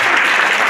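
Short burst of steady audience applause at a business media and marketing conference in a hotel hall, welcoming a speaker from Nielsen to the stage; dense and continuous, with no voices over it.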